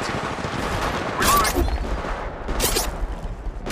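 Gunfire in Apex Legends Mobile: a few short bursts of rapid shots crackle out, one sharp cluster near the middle and another shortly after, over a low background game rumble at moderate distance.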